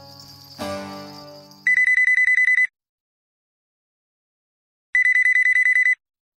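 A phone rings in two short electronic trilling bursts separated by silence, loud and close, after a brief noisy sound at the start.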